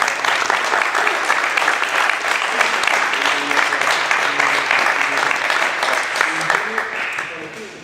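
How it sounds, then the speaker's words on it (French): Sustained audience applause at a podium awards ceremony, a dense steady wash of many hands clapping that holds loud throughout, with some voices faintly mixed in and a slight easing at the very end. "Voilà, on peut l'applaudir."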